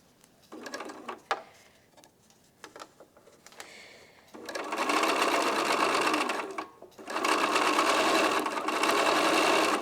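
A sewing machine chain piecing quilt block units, running in two long sustained bursts with shorter stitching stops and starts before them, close and steady.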